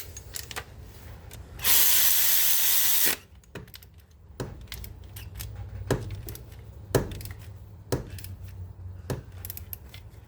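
A hand ratchet clicks in short, spaced bursts while tightening turbo bolts on a 2017 Mercedes Sprinter 2.1L twin-turbo engine, with one brief loud hissing rush early on.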